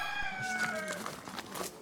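Ornamental chickens at a farm housing around eighty breeds cluck and call in a busy barn, a crowing rooster among them, steady and fairly close.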